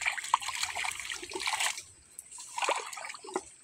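Water trickling and splashing while being directed along a channel, a steady broadband wash that briefly dips before resuming, fairly faint, with no talk over it.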